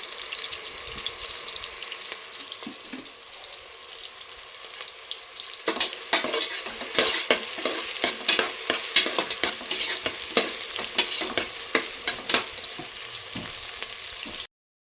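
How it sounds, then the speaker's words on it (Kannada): Onion, tomato, chopped mint and coriander with a ground spice paste hit hot oil in a pan for tempering, giving a steady crackling sizzle with stirring, which turns louder and denser with sharp pops partway through before stopping abruptly. "ಒಗ್ಗರಣೆ ಸೌಂಡು ಅದು ಚಿಟಿ ಚಿಟಿ ಅಂತ ಇರುತ್ತಲ್ಲ"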